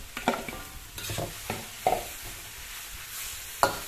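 Okra drops into a sizzling pan of mixed vegetables with carrots, and a spoon stirs it. Several distinct scraping thumps stand out over a low frying hiss, close and fairly quiet.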